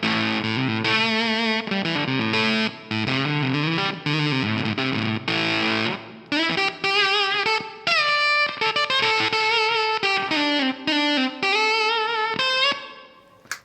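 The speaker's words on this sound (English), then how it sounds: "It's totally different fuzz as a Pete Cornish fuzz, but it's got that spitty thing" A KingTone MiniFUZZ Si silicon fuzz pedal drives an electric guitar with a spitty, choked, gated tone. Notes are stabbed with little sustain in a busy, loud riff that runs steadily with no talking.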